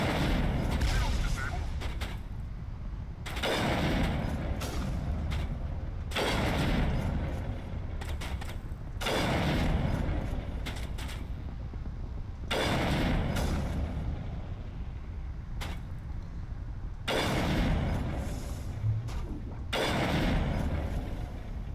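Rapid gunfire from the Mass Effect Legendary Edition video game comes in repeated sustained bursts of loud, dense shooting, each several seconds long, separated by brief quieter gaps, with voices talking in between.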